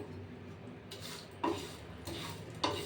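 Whole spices such as cumin, fennel, coriander and dried chilli dry-roasting in a pan for vegetable chop, faint and quiet with a few soft scraping stirs at a slow, gentle pace.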